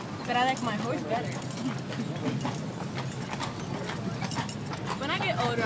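Horse hooves clip-clop steadily through a family horse ride, the rhythmic footfalls running the whole way under almost continuous children's and adults' chatter.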